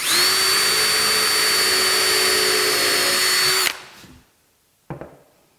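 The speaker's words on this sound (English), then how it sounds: "just pilot drill into the wood and get the screws put in." A power drill whirs steadily and loudly for several seconds while pilot drilling into wood, then winds down and stops, followed by a short clunk.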